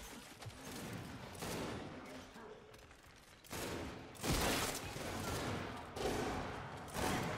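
Gunfire in the video game Gears 5 during a ranked Control match, several loud bursts and shots clustered across the span, dense and close with continuous action noise between them.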